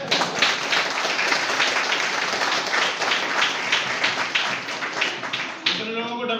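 Live audience clapping in unison on command at a public talk in Etawah, a dense sustained burst of many hands lasting several seconds, loud and close, fading near the end.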